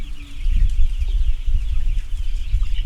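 Broiler chickens in a large two-storey coop cluck and murmur continuously, a dense, close flock with low churring calls and occasional sharper clucks.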